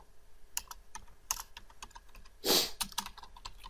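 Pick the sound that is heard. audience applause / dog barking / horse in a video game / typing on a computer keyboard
typing on a computer keyboard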